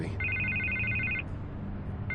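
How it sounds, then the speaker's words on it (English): A telephone rings in Batman: The Telltale Series, its electronic trill sounding twice in a steady burst with a short pause between, over a low ambient hum. "I can't get the phone to stop ringing"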